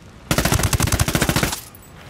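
Rapid automatic gunfire from a firefight in the Ghost Recon Wildlands video game, a loud, dense burst of evenly spaced shots lasting just over a second before cutting off.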